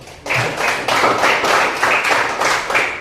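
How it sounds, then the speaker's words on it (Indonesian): Students in a classroom clap for a group after its presentation: a short burst of steady, moderately loud applause from a small group, rising in quick, fairly even waves for about three seconds. "Kita beri aplaus untuk kelompok."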